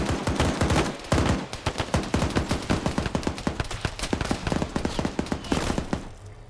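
A .50 caliber machine gun in a multiplayer shooter game fires long, rapid bursts of heavy, booming shots, loud and dense with barely any pause, and no talking over it.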